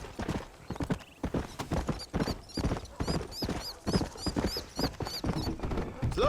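Horse hooves clip-clop steadily in Red Dead Redemption, a rapid rhythmic run of close, loud strikes with a few whistling squeals high above and occasional faint voices.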